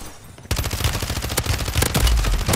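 Automatic fire rattles in a first-person shooter video game, with enemies on a hill shooting through a wall. After a brief quiet start, fast, loud, close bursts of shots fill the rest, with no talking.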